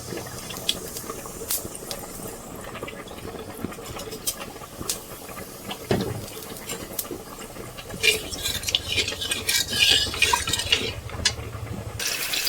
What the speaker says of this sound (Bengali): কড়াতে আবার একটু তেল যা ছিল এর মধ্যে কিন্তু 5 ফোড়ন দিয়ে দেব, দিয়ে বাদবাকি যা সবজি আছে এর মধ্যে দিয়ে কষিয়ে নেব।